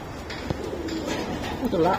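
Racing pigeons coo softly in a loft, a low throaty burble rising near the end, with a voice talking faintly in the background.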